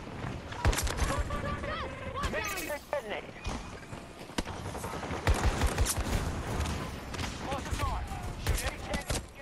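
Battlefield 2042 gunfire in a busy firefight: dense bursts of rapid shots and sharp cracks, some near and loud, others farther off, with someone talking excitedly over the action.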